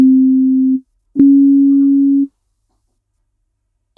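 Two steady pure sine tones for ear training, 0 and 100 cents apart, each sounded once in turn, loud and clean, separated by a short silence with a click at the start of the second.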